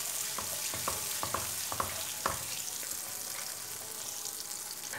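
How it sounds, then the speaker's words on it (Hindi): Spice paste fries in hot oil for chana chaat masala, a steady broadband sizzle with a few sharp stirring scrapes and taps in the first half, fairly close and unbroken by talk. "इन मसालों को करेंगे हल्का सा फ्राई, क्योंकि मसालों का जितना भी कच्चापन है ना वो ख़त्म हो जाए।"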